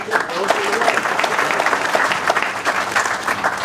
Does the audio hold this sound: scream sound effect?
no